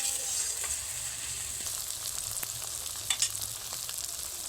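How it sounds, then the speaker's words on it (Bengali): Onion and ginger-garlic paste sizzle and fry in a pan for egg pulao, a steady bright crackle held close up with soft stirring bumps underneath. "পেঁয়াজের সঙ্গে আদা রসুনটাকে ভাজা ভাজা করে নেব।"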